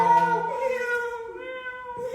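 A person imitates a cat, giving one drawn-out, tonal meow that wavers in pitch, close and fairly clear with no other talk.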